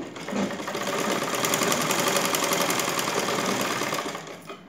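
A sewing machine stitches a blouse seam in one steady, fast, close-up run of rapid needle clatter and motor whir, slowing and stopping at the end, with no talk.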